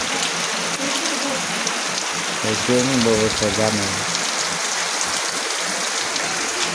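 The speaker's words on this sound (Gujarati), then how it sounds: "વરસાદ થોડો આવે" Light village rain keeps up a steady, even hiss and patter while a person talks for a few seconds in the middle.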